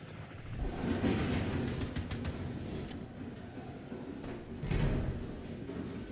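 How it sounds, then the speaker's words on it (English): Glitched video game audio: a continuous, dense low rumble like a train rolling past, steady and loud throughout with a couple of heavier swells, no voices. "It's like a train going through the entire building."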